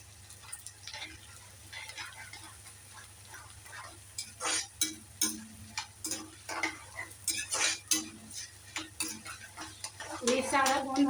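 Edible gum (gond) frying in a pan makes a faint sizzle beneath a spoon that scrapes and clatters against the metal in quick bursts, becoming busier and louder toward the end.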